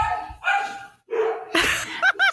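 A dog barks and yips in several sharp bursts with brief gaps, loud and close, ending in quick high whimpering yelps, with no voices over it.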